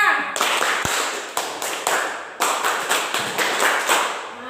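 A class of vocational high school students performing a rhythmic group clap routine, with bursts of clapping and tapping in short patterned groups, loud and close, with some voices mixed in.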